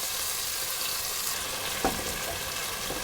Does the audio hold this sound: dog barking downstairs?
no